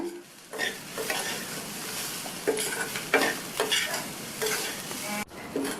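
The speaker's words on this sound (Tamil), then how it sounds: "தேங்காய் கலவையை சேர்த்துட்டு நல்லா ஒரு தடவை மிக்ஸ் பண்ணி விட்டுருங்க" A ground coconut mixture being stirred into a frying potato masala side dish, with repeated scraping strokes of a spoon through the pan over a steady sizzle, close and fairly loud.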